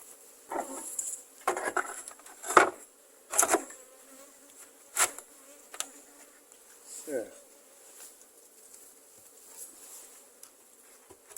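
Honey bees buzz around an open beehive during an inspection, with intermittent close passes and swells of buzzing over a quiet background, broken by some handling noises.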